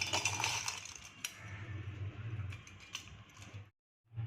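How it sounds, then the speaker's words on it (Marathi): A mixer grinder whirs steadily with a rattling, grinding clatter as it grinds crab legs with a little water, then stops abruptly near the end before a brief restart. "हे खेकडीचे पाय मी मिक्सरमध्ये वाटून घेणार आहे"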